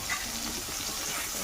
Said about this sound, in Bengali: এখন হালকা করে ভেজে নিতেছি।